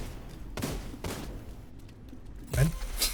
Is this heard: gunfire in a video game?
yes